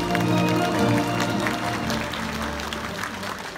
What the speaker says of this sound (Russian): Ваши аплодисменты, пожалуйста.